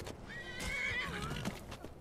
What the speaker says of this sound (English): What is the guard just attacking a horse?